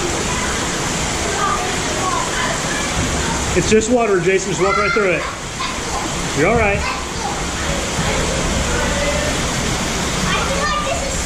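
Water pours steadily in an underground waterfall inside Eden Cave on the Buffalo National River, a loud continuous rush throughout, with people talking and shouting over it.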